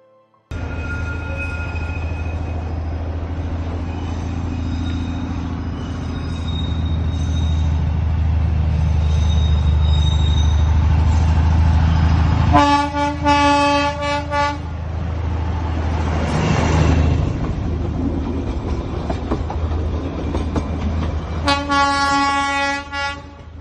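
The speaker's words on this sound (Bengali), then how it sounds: "হঠাৎ চোখে পড়ল এই পার্কের ভিতর দিয়ে টয় ট্রেনের লাইন আঁকাবাঁকা পথে" A toy train on a winding North Bengal mountain railway through a park rumbles steadily, then sounds two long, loud horn blasts, one near the midpoint and another near the end.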